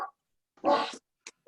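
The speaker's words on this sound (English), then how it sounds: "that's not my dog" A big, loud dog gives one deep, gruff bark in a quiet meeting room, followed by a couple of short, fainter yips, with silence between them.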